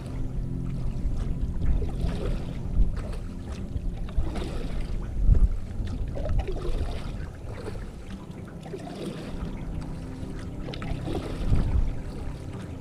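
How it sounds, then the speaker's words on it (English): Canoe paddling on a wilderness lake in Quetico, with steady splashes and water sloshing close by, some wind buffeting the microphone, and no talking. "Tell you what, I'm getting pretty good at paddling."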